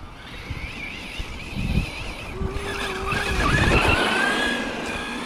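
A Team Corally Kagama 6s RC car with a Rocket 4282 1780KV motor runs on dirt nearby, its whining motor rising and falling with throttle over scrabbling tires, steady and fairly loud throughout.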